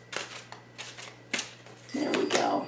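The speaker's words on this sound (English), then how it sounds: "So I know I look awkward shuffling these. It's almost painful shuffling these." Oversized tarot cards being shuffled by hand: a run of short, crisp papery riffles and taps, then a denser flurry of card noise near the end, with no talk.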